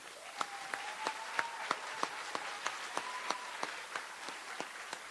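A fourth grade promotion ceremony audience gives a round of applause for ELA Presidential Award winners, sparse individual claps sounding at a steady rhythm over a faint background hum.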